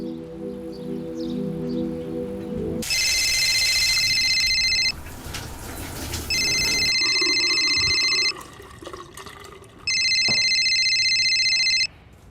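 An electronic phone ringtone trills in three long bursts separated by short pauses, loud and clear over a quieter background.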